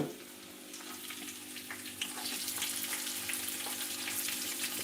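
Onions frying in a pan for puliyogare, a continuous soft sizzle and crackle that grows slightly louder partway through, with small pops scattered across it and no voices.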